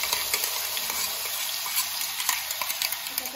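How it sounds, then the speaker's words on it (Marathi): Tomato puree hitting hot oil with chili powder and spices, a loud, steady hiss and crackle throughout, close up, with light stirring scrapes and no voices. "पहिले तुम्ही टॉमॅटो पिरी ॲड करून घेत आहे."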